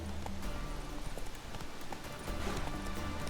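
A horse gallops in The Witcher 3 during mounted combat, its quick hoofbeats drumming close and steady through a busy layer of game sounds over a few seconds.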